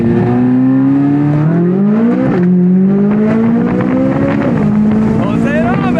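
A C8 Corvette Z06 pulls hard in first gear, its engine roaring loud and close from inside the cabin as revs climb steadily, with a couple of brief dips before rising again.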